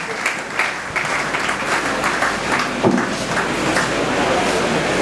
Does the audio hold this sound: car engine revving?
no